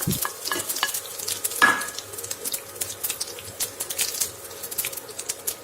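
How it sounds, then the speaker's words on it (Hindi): Cumin seeds and asafoetida crackle and sizzle steadily in hot mustard oil over low flame, with a brief clink of a utensil against the pan near the start; no talking. "अब हमने फ्लेम को कम कर लिया है, और इसमें हम डालेंगे जीरा और हींग।"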